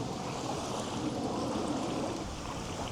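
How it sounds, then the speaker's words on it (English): Strong wind buffeting outdoors during a fishing trip, a steady broadband rushing and rumbling roar close to the microphone, with no voices. "There's a lot of wind here."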